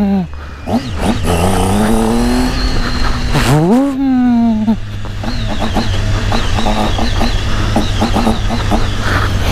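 A Triumph Tiger 800 motorcycle with the air filter removed revs hard near the listener, with rising and falling engine sweeps over a loud, constant idle rumble and a brief sharp blip midway.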